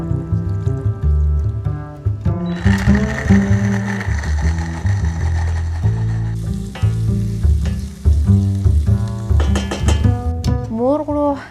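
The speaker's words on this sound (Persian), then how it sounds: "حالا بادوم رو میریزم توی میکسر، به صورت پوره درش میارم." A blender purees cashews, giving a loud, continuous mechanical whir whose pitch and grinding texture shift as the nuts break down, running close and alone without any voices.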